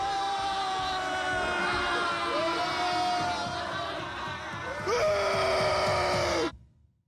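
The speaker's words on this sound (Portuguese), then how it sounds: "São gritos de dor, agonia, tortura e exaustão." Strained screams of pain and exhaustion from a film, several seconds of loud wailing voices with rising and falling pitch that cut off abruptly.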